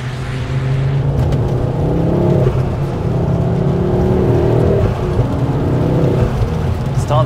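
A Ford Focus ST MK2 with a sports cat and 3-inch exhaust system, heard from inside while driving: a steady, loud, deep engine drone whose pitch rises and falls as it revs and shifts, with no speech.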